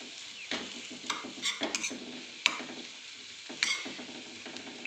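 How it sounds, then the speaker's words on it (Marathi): A spoon mashing boiled potato in a bowl for paratha filling, giving soft scraping, squishing strokes in irregular bursts with a few sharper clinks of the spoon against the bowl, heard close and alone. "बघा बटाटा चांगला उकडला गेल्यामुळं तो लगेच स्मॅश होतोय बारीक करून घ्यायचं त्याला एकदम"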